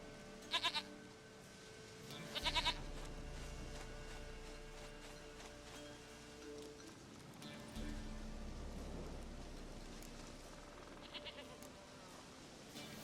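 A goat bleating in The Witcher 3, with two short bleats near the start and more around the middle and end, heard over a steady low rumble of game ambience.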